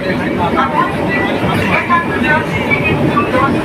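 A crowded local train on the Tarakeswar line runs with a steady, dense rumble and rattle, and a mass of passenger chatter blends into the noise throughout.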